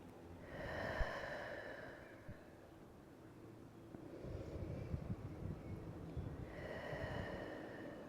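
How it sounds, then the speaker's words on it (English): Slow, deep breaths during a relaxing yin yoga session, audible as soft airy inhales and exhales at about one and seven seconds, with a gentle rustle between them and no talking. "Last 3 deep breaths."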